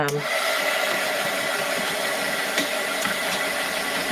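A hair dryer blows steadily and loudly up close, drying paint in a steady unbroken whoosh with a faint rattle and no pauses.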